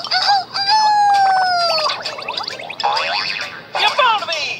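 Loud, drawn-out rooster crowing from a Sesame Street VHS tape, a near, cartoonish cock-a-doodle-doo with wavering pitch, followed by further crowing and clucking bursts.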